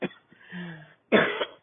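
A person with a sore throat coughs twice, a softer throaty cough followed by a louder, harsher burst after a short pause, close to the microphone with no talking.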